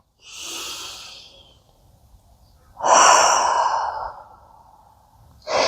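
Deep, audible breaths during a yoga stretch for perimenopause: a long sigh-like exhale, a pause, then a louder, fuller breath, with another breath beginning at the end, all close and without talk.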